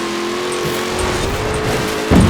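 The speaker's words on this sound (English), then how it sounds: "Love that engine sound, though." A car engine in Forza Horizon 4 drones steadily with a sustained tonal hum, then briefly roars louder near the end; no speech.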